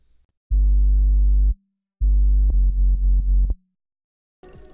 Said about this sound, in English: I layered it with this sub bass.